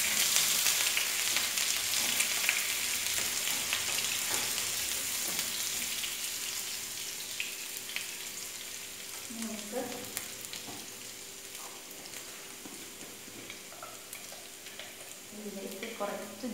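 Garlic fries in hot oil in a pan for a potato dish, a loud steady sizzle that slowly settles, with occasional stirring clinks and soft scrapes near the end.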